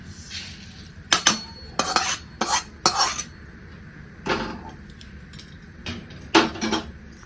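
A spoon scrapes and clinks against a metal pan while roasted vermicelli is moved onto a plate: a handful of bright, close metallic scrapes and taps in irregular bursts over a quiet background.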